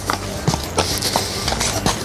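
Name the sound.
horse walking, hooves clip-clopping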